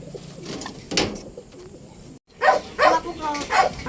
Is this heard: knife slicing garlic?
no